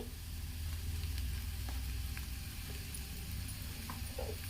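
Egg fry with coriander sizzles steadily in a pan, a continuous crackling hiss with occasional small pops and faint stirring clicks, close and fairly soft, with no talking.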